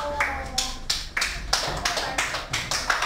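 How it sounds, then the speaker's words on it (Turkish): Students applaud weakly at an English vocabulary contest: about half a dozen short, thin bursts of clapping, each fading quickly, close by in a classroom with no talk over them. "Güçsüz bir alkış."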